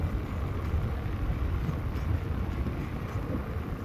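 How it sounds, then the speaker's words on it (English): Wind buffets the microphone during a group ride, a steady loud low rumble with gusty roar that fills the whole stretch and masks other sound. "Hope the wind isn't so bad you can't hear me."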